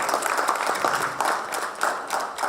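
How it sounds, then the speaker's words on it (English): An audience at a media awards ceremony claps for a second runner-up, a fairly loud, dense round of applause with slight swells, continuous throughout with no speech on top. "Let's give him a big round of applause"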